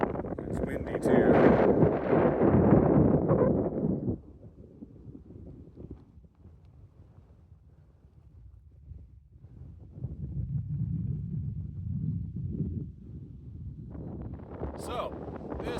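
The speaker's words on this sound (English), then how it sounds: "It's windy too." Gusts of wind buffet the microphone in loud rumbling bursts, easing to a quieter rush in between before picking up again.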